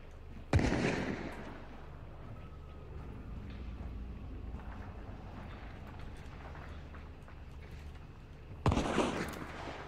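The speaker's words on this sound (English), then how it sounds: "Are they shooting at you, or are they shooting at someone else?" Gunfire in a shooter video game: two sharp, loud shots or blasts, one near the start and one near the end, with a low, steady background rumble between them.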